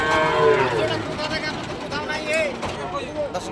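Cattle at a livestock market moo in several drawn-out calls, loud and close, over a busy background of crowd murmur and talking.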